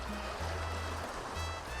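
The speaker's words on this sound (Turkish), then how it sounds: "Ağaçlar, kuşların sesleri, dalga sesi." Soft waves wash against the shore of Avratçalı Cove in a quiet, continuous hiss, with a low steady hum underneath.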